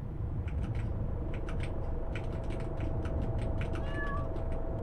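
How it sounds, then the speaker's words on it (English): Cat meowing in a Yume Nikki fangame: a few short, faint meows over a steady droning ambient game background. "Kitty cat, maybe you shouldn't be here."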